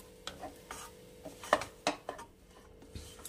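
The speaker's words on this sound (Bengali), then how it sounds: "এটাকে ভালো করে নাড়াবো, নাড়িয়ে একটা পুরো দলা মতন তৈরি করব" A thick energy laddu mixture is stirred and pressed in a kadai, soft scrapes and occasional clinks of the spoon coming in an uneven rhythm at low volume.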